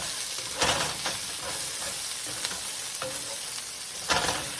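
Chopped vegetables sizzle steadily as they are stir-fried in a hot pan, with a few louder bursts as the food is tossed and stirred, close and with no voices.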